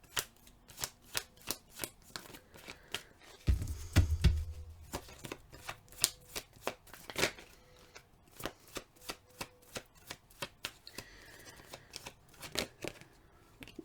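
Tarot cards are shuffled in a long run of crisp, evenly spaced snaps and riffles, interrupted briefly by a low thump and rustle before the rhythmic shuffling resumes; close and fairly quiet.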